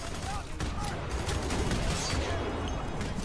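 Sniper rifle fire in F.E.A.R. 3 blends into a thick, continuous crackle of gunfire, with a voice talking over the noise.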